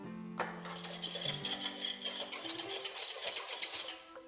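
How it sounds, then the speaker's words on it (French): Water and sugar stirred together in a pan for syrup: a spoon scraping and clinking against the metal in quick, light strokes, close and fairly quiet, with a brief hum at the start. "Je vais mélanger les deux ensemble"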